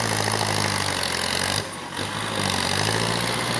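A Kubota L4708 tractor pushing soil with its engine running: a steady, loud diesel drone that dips briefly in the middle before returning to full rumble, heard close.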